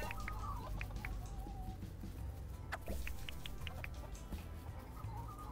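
Chickens cluck in the farming game Dinkum, giving short clucks and chirps scattered over a low, steady game ambience, fairly faint and with no speech.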